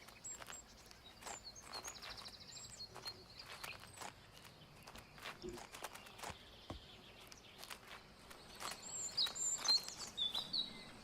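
Birds chirp and tweet in the Botany Manor video game, scattered bright calls over soft background ambience, with footstep-like taps throughout and a busier burst of chirps near the end.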